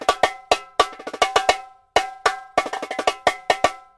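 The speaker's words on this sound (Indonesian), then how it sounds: "Di sini gue pakainya merek LP. Ini sebenarnya namanya mini timbales." An LP 8-inch snare drum, mini timbales with the snappy removed, gives bright, ringing metallic hits in a quick syncopated pattern, dry and close, with one brief pause partway through.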